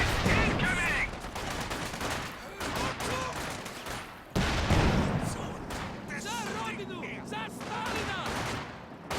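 Pintle-mounted machine gun on a Sherman tank firing in Company of Heroes 2, rapid bursts and gunfire mixed with explosions in a busy battle, with a commentator talking over it throughout.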